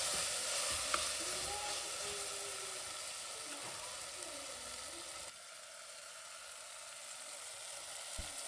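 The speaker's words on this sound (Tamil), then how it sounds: "இஞ்சி பூண்டு பேஸ்ட்டை இதோட சேர்த்து நல்லா பச்சை வாசனை போகிற வரைக்கும் நல்லா வதக்கிக்கலாங்க" Ginger garlic paste fries with tomato in a pan for biryani, a faint, even sizzle with a few light scrapes of a stirring spoon and a small knock near the end.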